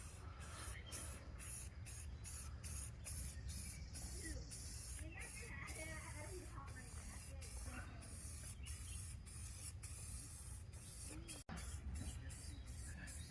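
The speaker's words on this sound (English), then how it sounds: "I recommend wearing a mask when you're spray painting" An aerosol spray can paints a jet ski, hissing in repeated short bursts with regular pauses and faint rattles and handling noises between them, close and fairly quiet.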